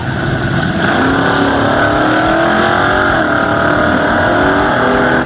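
A naturally aspirated gasoline American muscle car engine roars loud and close, its revs climbing steadily in a sustained, throaty drone with no talk over it.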